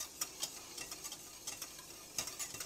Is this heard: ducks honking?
no